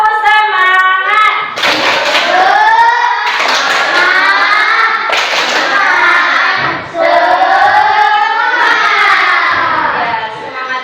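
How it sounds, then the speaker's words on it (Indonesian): Schoolchildren in a classroom do a rhythmic spirit clapping routine, sharp clap patterns and thumps layered under loud group chanting voices. "Tepuk semangat."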